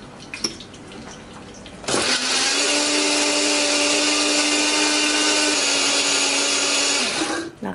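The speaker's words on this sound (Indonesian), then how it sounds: "semua bumbu ini akan kita haluskan menggunakan blender ya" Blender grinding garlic, pepper and spice paste with a little water, starting with a click after a quiet moment and then running as a loud, steady whir for several seconds before stopping.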